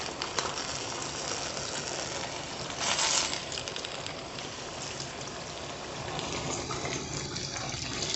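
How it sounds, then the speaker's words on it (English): Chicken broth pours steadily into a pot with a continuous splashing gush, briefly louder near the middle, with no talking. "Then we're going to add some of this chicken broth, maybe about half of this, and some water."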